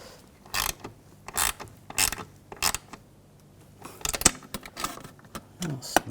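Ratchet tightening bolts on a front seat of a 2021-2023 Jeep Grand Cherokee L, bursts of close metallic clicking in quick repeated strokes separated by brief pauses.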